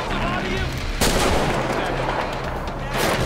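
Rapid gunfire bursts from a GTA 5 zombie mod firefight, dense and continuous with sharp onsets around one and three seconds, layered over game noise.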